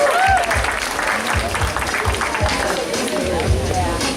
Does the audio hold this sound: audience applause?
yes